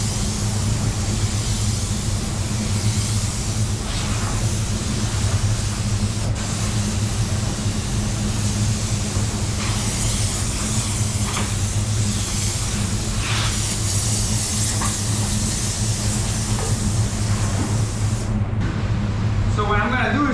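Steady hiss of a spray gun laying down a pearl white base coat, continuous and close for the whole stretch, with a constant low hum beneath and brief faint shifts in the spray.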